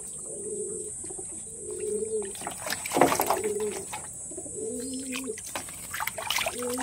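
Pigeons coo in soft, repeated low bursts while being bathed, alongside faint splashing and handling noises close by.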